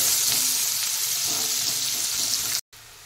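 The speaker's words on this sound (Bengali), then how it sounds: "পেঁয়াজটা লাল হওয়া পর্যন্ত ভেজে নেব।" Chopped medium onion frying in a pan for a Bengali rohu fish curry, a steady close sizzle with faint stirring throughout.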